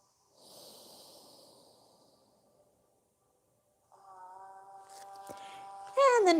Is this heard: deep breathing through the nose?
yes